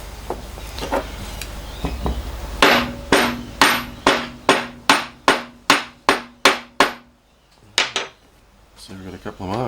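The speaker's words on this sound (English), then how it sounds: "Give it a hit with a hammer and hopefully that'll make a couple of marks." Hammer striking metal on a ball turning tool to mark hole positions, about a dozen sharp ringing blows in a steady rhythm, then two more hits after a pause, with faint background noise.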